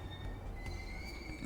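Subway train in the Persona 5 Royal video game, a steady rumbling rail roar with faint high wheel squeal tones, continuous and moderately quiet throughout.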